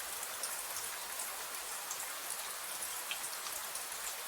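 Rain falling on a river, a dense, steady hiss of drops splashing the water surface, even and continuous with no voices.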